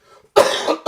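A person with bronchitis gives a harsh, close cough: a faint rasp first, then one loud, rough hacking burst followed by a shorter second burst.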